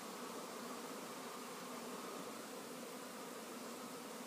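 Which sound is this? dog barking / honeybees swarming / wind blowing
honeybees swarming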